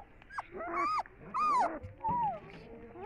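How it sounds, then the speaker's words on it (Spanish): Newborn puppies, a litter of five, give high, wavering whimpers and squeaky cries in several short bursts, close by and fairly soft over a quiet background. "¡Oh, los perritos!"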